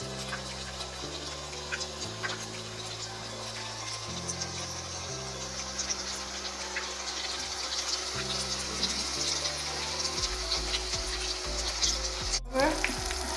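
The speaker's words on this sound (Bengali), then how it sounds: "পাকোড়াগুলো ফুল ভেজে নিলাম" Cauliflower pakoras frying in hot oil, a continuous moderate sizzle with faint bubbling, a low background tone and a sharp click near the end.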